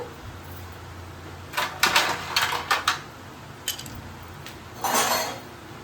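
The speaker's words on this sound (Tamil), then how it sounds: "உங்களுக்கு தேவையான அளவுக்கு ஐஸ் கட்டி போட்டுக்கோங்க." Several hard clinks and clatters in quick succession, like ice cubes dropping into a glass for lemon kulukki sarbath, followed by a pause and one more rattling clatter.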